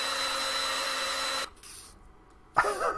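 A drill sharpening a pencil in the video game Pencil Sharpening Simulator gives a loud, steady whine that cuts off abruptly partway through, leaving near silence before a short burst of sound returns.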